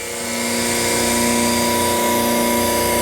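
The spindle of a 10 by 20 inch Landis hydraulic universal cylindrical grinder, rated for 3,400 RPM, winds up within half a second and then holds a loud, steady, high tonal whine with a dense motor hum and no voices.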